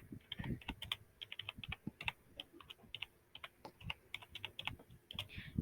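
Keys clack on a computer keyboard in quick, uneven bursts of light taps, close and fairly quiet, with no talking.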